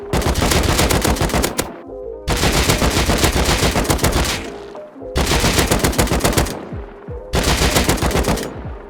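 Automatic gunfire in the video game Rust rattles in four long sustained bursts of rapid shots, loud and close, separated by brief pauses.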